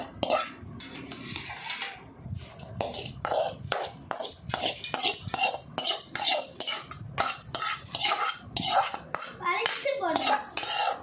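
Metal spoon scraping and clanking against a pan as tempering is scraped into pongal, a rapid series of close, sharp scrapes and knocks running the whole time, with no talk.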